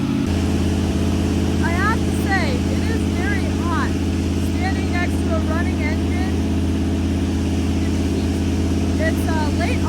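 A farm engine runs steadily and loudly close by on a hot late-summer day, its constant low drone filling the whole stretch while a person speaks over it in several short bursts.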